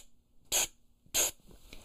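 A trumpet player makes two short, sharp breath hisses imitating the release of a small aerosol spray, each a crisp burst of air, close and clear against a quiet room.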